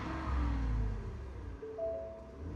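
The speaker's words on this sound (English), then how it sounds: "I'm just high key revving this, just so I can see." A Ford F-150 with a 5.0L V8 engine revs up with a deep low rumble that swells and falls over a couple of seconds, close and steady, with no voices.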